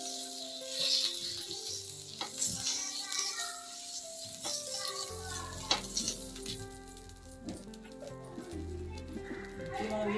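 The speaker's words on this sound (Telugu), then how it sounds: "మనం ఇప్పుడు దోశ వేసేసుకుందాము" Millet dosa batter sizzling on a hot pan for a crispy breakfast dosa, a steady frying hiss running under clear talk throughout.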